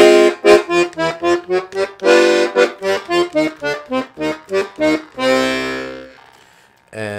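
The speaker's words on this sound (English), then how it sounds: "We've got 48 basses with just one sound that sounds like this." Bass side of a Walther Teeny 48 piano accordion with 48 bass buttons and one register, played as a steady run of short pumped bass-and-chord pulses ending in a longer held chord, close and loud with no talking.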